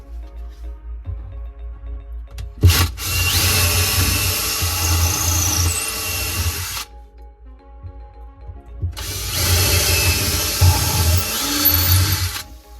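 Power drill boring holes into a wooden wall stud for termite treatment, two loud sustained bursts of whining drilling separated by a pause, with a sharp knock just before the first.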